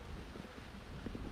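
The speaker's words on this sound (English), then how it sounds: "It's a little bit windy." Wind buffets a microphone outdoors, producing a low, uneven rumble with gusty bumps, fairly quiet and steady throughout, with no voices.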